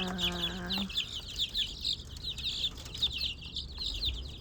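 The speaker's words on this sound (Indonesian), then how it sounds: "Ini ayam kampung ya guys, ayam kampung asli." Free-range village chickens clucking in a steady run of short, repeated calls, with one brief drawn-out squawk at the start; close by and fairly loud.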